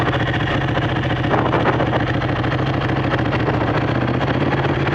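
A cold Ducati 1199 Panigale motorcycle engine idles steadily up close, a loud, continuous, even rumble with a lumpy, thuddy pulse and no speech.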